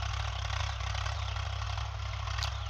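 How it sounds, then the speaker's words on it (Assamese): Tractor engine running steadily as it ploughs a farm field, a low, even diesel drone with faint rattle, constant and moderately distant with no voices. "ইফালে ট্ৰেক্টৰ হাল বাই আছে"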